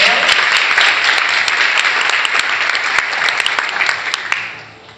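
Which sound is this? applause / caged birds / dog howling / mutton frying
applause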